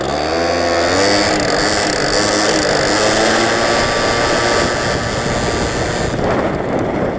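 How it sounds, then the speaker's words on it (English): A scooter engine runs at full throttle in city traffic, a loud, steady high-revving drone with dense harmonic whine throughout, dropping slightly near the end. "And now go full throttle in the city and have a blast riding these things."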